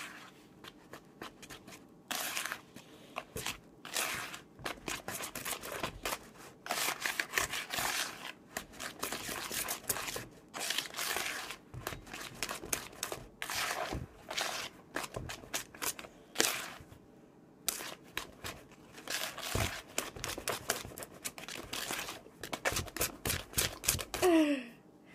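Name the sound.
whisking St. Patrick's Day cake batter by hand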